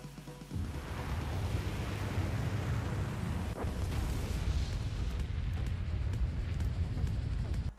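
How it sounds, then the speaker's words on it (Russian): A rocket shot in Spore hits and explodes, leaving a huge crater: a sudden roaring blast that swells into a long, loud rumble and sustained wash of debris noise, heard close and alone. "можно попробовать, выстрелив ракетой."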